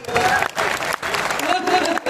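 Crowd applause at a Hindi humorous poetry event, a short burst of dense clapping mixed with voices, steady and fairly loud with brief gaps.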